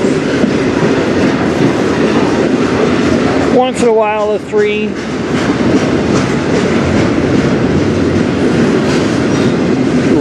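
A CN freight train hauled by AC locomotives rolls past steadily and loud, its continuous rumble and clatter filling the whole stretch, with a brief voice breaking in near the middle.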